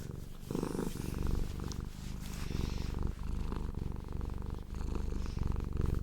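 A cuddling cat purrs steadily and very close to the microphone with a paw resting on it, a low rhythmic rumble that pulses with each breath and carries on alone without any talking.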